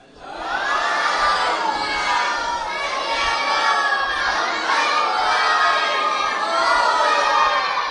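A large crowd gathered at a religious majlis in an imambada in Lucknow raises a loud, sustained collective shout of a religious slogan, voices swelling together and holding for several seconds.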